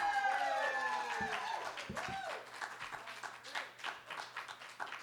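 Audience applause and cheering break out after a card trick at a live magic show night in Atlanta, a loud burst of clapping and shouts that settles into scattered claps and crowd noise.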